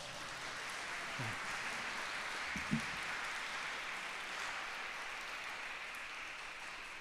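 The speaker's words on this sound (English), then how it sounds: "let's give him a round of applause" Audience at a school district neighborhood meeting in a middle school applauding, an even, moderately faint patter of clapping with one sharper knock partway through.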